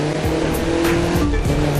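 Off-road car in The Crew 2 racing game taking a jump, with a loud continuous engine roar, shifting pitch sweeps and tire squeal throughout, no talking.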